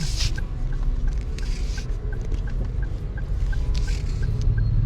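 Caged chickens cluck and murmur nearby against a steady low rumble, with soft, irregular calls scattered across the stretch.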